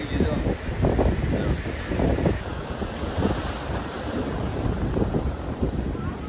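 Ocean waves wash in continuously at Dumas beach, a broad rushing surf under heavy wind buffeting the microphone, with the roar holding steady throughout.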